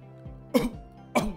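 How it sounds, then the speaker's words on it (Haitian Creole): A person coughs hard twice, close and loud, as a demonstration of forceful coughing during CPR instruction, with a short quiet gap between the two bursts. "Essayez tousser fort."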